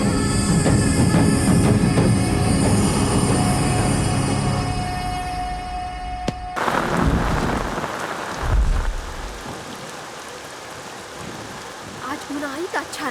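Steady rain pours heavily with a deep rumble of thunder, then the downpour gives way to quieter rain and faint background sounds.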